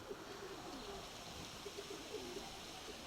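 A pigeon, a small, neat female, gives faint soft coos in short repeated notes, with quiet room noise behind.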